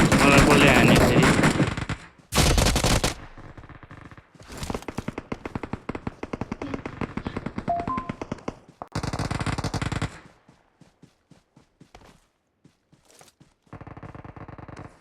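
Rapid automatic gunfire and single shots ring out in a video game, loud and close in dense bursts and sharp staccato volleys with brief pauses, followed by sparse, quieter shots.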